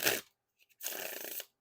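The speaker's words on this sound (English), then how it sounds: "And now time for the riffle shuffle or bridge shuffle." Deck of playing cards riffle shuffled, a sharp short burst of cards, a brief pause with tiny ticks, then a longer steady fluttering riffle of interleaving cards, close and clear.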